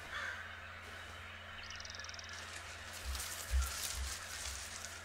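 Crow cawing in the forest wilderness of the video game Firewatch, a few harsh calls over a soft ambient outdoor bed, moderately distant and without talk.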